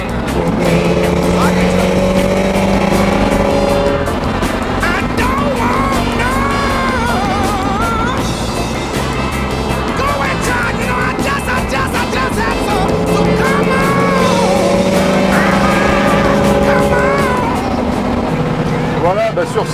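Ford Mustang Fastback with a 5-litre engine and Tremec T5 five-speed gearbox, heard from inside while driving: a loud, continuous engine drone rising and falling with the throttle, under steady conversation.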